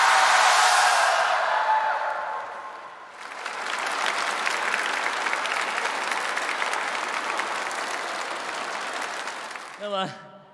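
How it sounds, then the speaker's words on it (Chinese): Concert audience applause, loud clapping that fades out at first, then a second warm round of clapping from the crowd that runs for several seconds before a brief voice cuts in at the end. "同时也要感谢我们现场观众热情的掌声"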